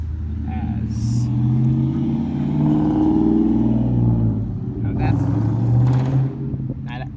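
A car's engine rumbles loudly and revs as it drives past close by, swelling and then falling away, with short bursts of talk over the noise.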